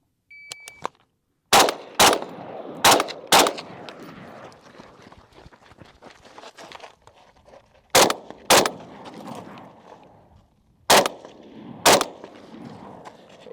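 A Steyr AUG rifle fires at a target 140 yards downrange: sharp, loud single shots in uneven bursts, some in quick pairs, with pauses between and outdoor echo trailing each report.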